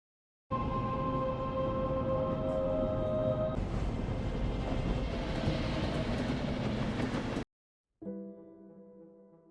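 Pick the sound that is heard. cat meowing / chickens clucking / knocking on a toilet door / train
train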